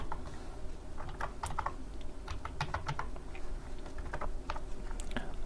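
Quiet, close clatter of JavaScript code being typed on a computer keyboard, irregular bursts of keystrokes with no talking.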